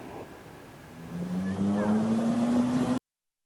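A car speeding along a road at night, with a steady broadband engine and road roar that swells and holds loud, a rising engine tone climbing through the middle, then cutting off abruptly.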